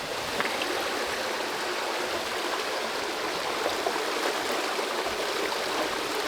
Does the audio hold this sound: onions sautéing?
no